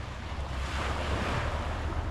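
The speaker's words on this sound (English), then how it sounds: "you can hear the crashing of the waves there" Ocean waves crashing and surging at Mosman Park with a constant wind rush, a dense broad roar swelling slightly in the middle.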